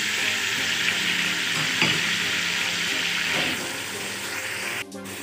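Tomatoes drop into a ginger gosht pot and hiss in a loud, continuous sizzle of hot oil that eases slightly near the end, broken by a brief clatter.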